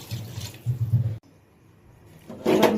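Water is poured into a pan of fried potatoes for a Bengali tangra fish curry, giving a splashing gush, then a brief hush, then a louder rushing pour at the end.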